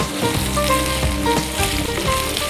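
Boiled potato and carrot pieces fry in a pan, giving a constant close sizzle with occasional clinks and scrapes from stirring, and no voices.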